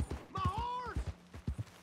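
Horse hooves clip-clop in a quick rhythm in Red Dead Redemption 2, a set of soft, close steps with a brief in-game voice over them.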